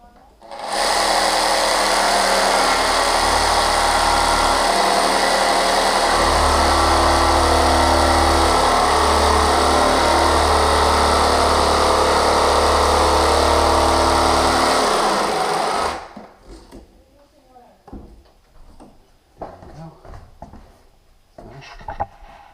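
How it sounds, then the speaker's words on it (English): A jigsaw cuts through a luxury vinyl floor plank with a loud, steady, buzzing drone for about fifteen seconds, then stops abruptly, leaving quiet handling noises. "I'm just going to finish it up with this jigsaw cut."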